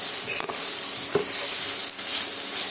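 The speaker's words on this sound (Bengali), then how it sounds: "এবার খুন্তি দিয়ে আমি এইভাবে নাড়তে চাড়তে থাকবো" A spatula stirs grated coconut and sugar in a pan over a steady frying sizzle, with a few close scraping strokes standing out against the continuous hiss and no talking.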